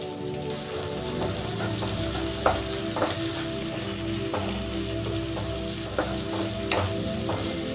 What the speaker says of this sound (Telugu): ఈ ఉల్లిగడ్డల్ని కలుపుతూ లైట్ గోల్డెన్ బ్రౌన్ కలర్లోకి వచ్చేదాకా చేసుకోవాలి